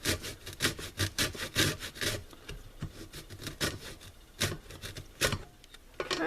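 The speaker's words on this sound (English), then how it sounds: "we're just going to zest lemon" A lemon rubbed against a handheld zester, giving a quick run of rasping, scraping strokes close up, each burst short and bright with small pauses between them, no talking.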